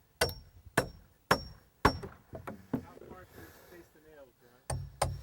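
Hammer blows drive galvanized nails into a pressure-treated floor joist while framing a wall: about seven sharp, loud, close strikes in uneven clusters, with a brief voice heard midway.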